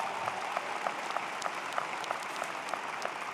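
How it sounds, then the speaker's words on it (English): Commencement audience applauding families, a broad even wash of clapping from a large crowd that holds steady throughout, with a few sharper claps standing out and no talk over it. "And of course, give your families a round of applause."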